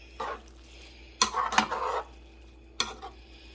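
Grated Parmesan cheese is stirred into a stuffed bell pepper filling, heard as a few short separate scrapes and clatters of a utensil against the pan over a faint background sizzle.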